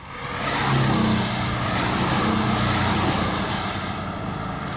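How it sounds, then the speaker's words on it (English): A Porsche 718 Boxster four-cylinder boxer engine hums with a full, steady, throaty drone that swells briefly and then holds. "Its B4 engine gives the 718 Boxster a typically full Porsche sports car sound."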